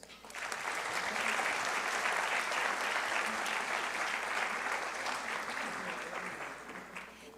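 Sustained audience applause fills a conference hall after a lecture on legal reforms to the Amparo Law, rising quickly, holding steady and loud for about seven seconds, then starting to thin near the end.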